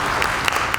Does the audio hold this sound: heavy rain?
no